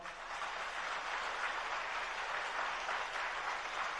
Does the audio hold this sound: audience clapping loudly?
yes